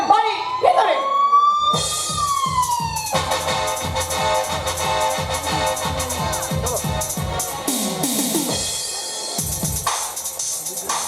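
A police car siren sound effect during a Bengali jatra play, with a wailing, rising siren that turns into a loud pulsing warble and continues throughout under stage music.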